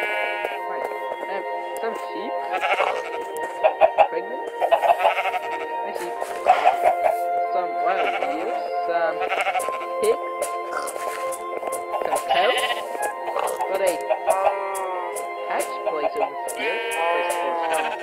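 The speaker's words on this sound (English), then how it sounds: "Some sheep? Pregnant? My sheep." Sheep in the video game Minecraft, on a TerraFirmaCraft survival farm, give repeated wavering bleats throughout, close and clear, mixed with other animal calls while someone talks over them.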